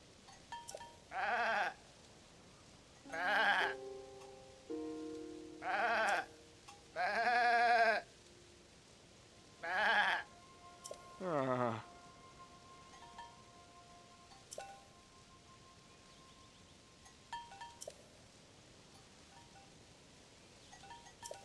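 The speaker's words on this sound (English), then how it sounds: "what if I could have shot these goats?" Goats bleat in Zelda: Tears of the Kingdom, about eight distinct wavering calls in quick succession, clear and fairly close, before the scene falls to a quiet ambient hush.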